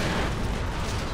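An ammo refill crate bursts after being shot in Far Cry 4, giving a dense, loud roar of blast noise that fills the whole moment with no clear separate pops.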